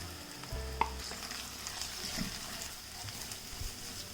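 Onions and grated coconut sauté quietly in a pan for a Kerala chickpea curry, with soft sizzling, a sharp clink of the spoon early on and scattered stirring scrapes, faint and close.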